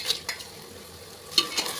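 Whole spices and onions frying in a mix of oil and ghee for chicken biryani, a soft steady sizzle with a few sharper stirring scrapes near the start and end, close by with no talk.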